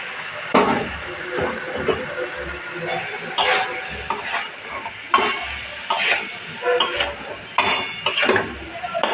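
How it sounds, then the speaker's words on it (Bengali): Ridge gourd, potato, cauliflower and small fish being stirred in a spice curry, with repeated scraping strokes and faint sizzling close by, no talking. "মশলাটা কষানো হয়ে গেছে আমি এবার ঝিঙে আলু ফুলকপি চুনো মাছ দিয়ে দেবো"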